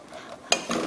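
Cooked rice is scooped from the pot into a serving bowl during Korean cooking exam practice, with a short sharp clack of a utensil against the pot followed by soft scraping.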